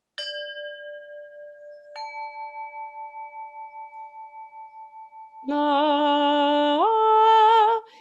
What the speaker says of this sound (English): And that is a pure fifth, because my bells